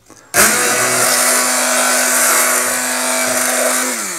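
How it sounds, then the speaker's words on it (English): An electric whisk pureeing apple sauce switches on abruptly and runs as a loud, steady, high motor whine with a constant hum, easing slightly near the end, with no talk. "But let me whisk that up and make it all nice and smooth."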